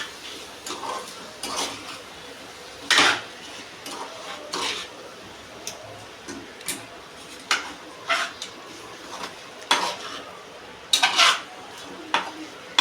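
Drumstick (shevga) masala being stirred with salt in a metal pan: repeated clanks and scrapes of a spoon against the pan at an irregular rhythm, close up, over a faint background sizzle.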